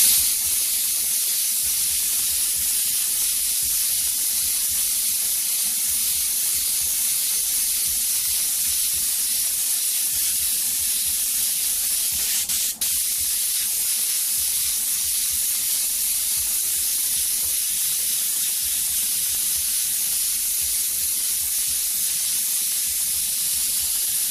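An airbrush mists white paint in a steady, continuous hiss that runs close and unbroken throughout, with only a brief click partway through.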